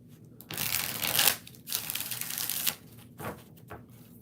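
Tarot cards riffled and shuffled in several bursts, crisp papery flutters with short pauses between them, close and fairly loud with no talking.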